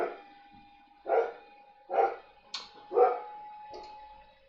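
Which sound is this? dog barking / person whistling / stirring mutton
dog barking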